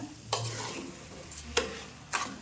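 Rice being stirred into sizzling masala in a pan, with three distinct scraping strokes of a spoon over a soft, steady fry.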